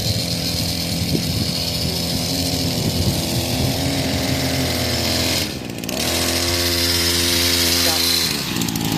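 A dirt bike engine runs loud and close with a steady, buzzing drone, briefly dropping before rising again as the throttle is worked, while people talk over it.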